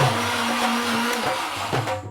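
A kitchen mixer grinder runs with a loud, steady whirring motor hum that wavers slightly in pitch, close by and alone.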